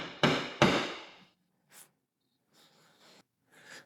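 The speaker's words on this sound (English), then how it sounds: "Just give them a nice center punch." A hammer strikes a center punch on metal while hole positions are marked for a Lexus GX470 Bison Gear tire carrier install, two sharp close taps followed by a few fainter knocks and handling sounds.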